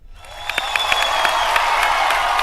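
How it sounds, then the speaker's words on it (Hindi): Studio audience applause on a comedy show, a dense crowd clapping that swells in quickly and holds loud and steady with individual sharp claps on top. "जिनको मैं पसंद आई, जरा मेरे लिए तालियां"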